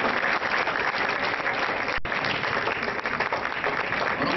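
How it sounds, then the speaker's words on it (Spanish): A conference audience at the Gran Museo del Mundo Maya during the Festival de la Cultura Maya gives dense, continuous applause that stays loud and steady throughout. "Mandan un aplauso también."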